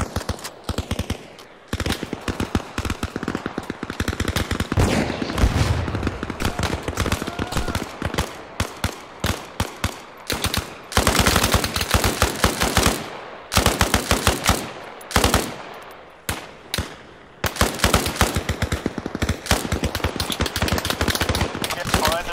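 Soldiers exchange fire in the video game Arma Reforger, with sustained bursts of automatic gunfire and rapid single shots, loud and close. The shooting goes on almost without a break, with brief lulls, and voices come through faintly under it.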